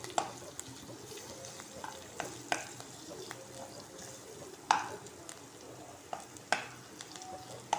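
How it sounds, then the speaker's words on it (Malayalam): Sliced onion being stirred and sautéed in coconut oil for kakkayirachi fry, with a quiet continuous sizzle and repeated clacks of a spoon striking and scraping the pan. "നമുക്ക് സവാള നന്നായിട്ടൊന്ന് ഇളക്കി കൊടുക്കാം."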